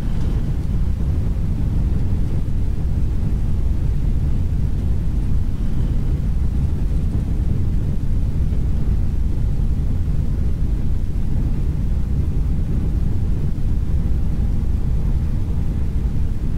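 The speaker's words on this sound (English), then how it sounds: "Reverse thrust." A steady, loud low-pitched roar of reverse thrust from a flybywire A32NX Airbus A320 landing at Toncontin in Microsoft Flight Simulator, a continuous broadband rumble that holds level throughout with no talk.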